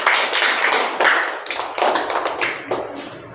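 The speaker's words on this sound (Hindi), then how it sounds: "आप ताली से इनका स्वागत करें" A group of children in a classroom claps to welcome a student, with several uneven bursts of hand claps and taps that swell and fade in waves, fairly close.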